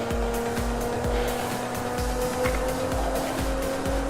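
A Nissan GT-R races around Willow Springs in a driving video game, its engine droning loud and steady with a rhythmic low pulsing beat and faint tire noise, no voices over it.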